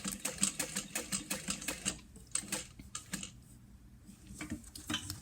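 A sewing machine stitches across the bottom of a fabric lunch box in quick rhythmic mechanical clatter, pausing briefly in the middle before the steady needle ticking picks up again, close and fairly quiet.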